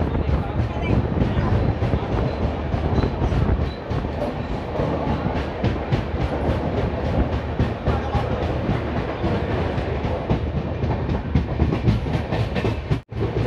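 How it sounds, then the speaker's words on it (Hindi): A Jan Shatabdi passenger train departing platform 4 at Dadar, Mumbai rumbles steadily along the rails with rhythmic clattering, loud and close, with a sharp knock near the end. "ये है दादर का प्लेटफॉर्म संख्या 4, जहाँ से हमारी जन शताब्दी खुल चुकी है दोस्तों"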